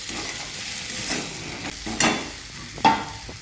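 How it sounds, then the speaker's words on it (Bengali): Cauliflower, potato and carrot sautéing with spices in a pan for a chana dal dish, a continuous sizzle broken by several scraping stirs and a couple of louder utensil clanks. "মশলা দিয়ে ফুলকপি, আলু, গাজরটাকে ভালো করে কষিয়ে নিয়েছি।"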